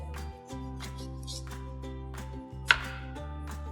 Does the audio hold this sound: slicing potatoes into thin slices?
yes